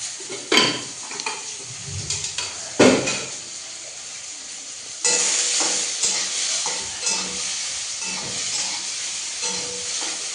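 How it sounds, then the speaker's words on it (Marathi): Onion frying in a pan with very little oil for a sprouted moth bean curry, a steady sizzle with stirring and scraping bursts that grow louder midway, close and without talk. "कांदा भाजायचा. लय तेल बी चालत नाही आमच्या."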